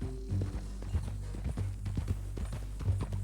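Horse hooves clip-clopping at a walk in Red Dead Redemption 2, a steady close series of hoof falls over a low rumbling game background, with no talk.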